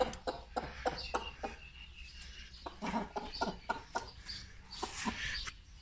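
A hen clucks repeatedly in short, quick bursts, fairly close and soft, with faint rustling and other bird sounds around.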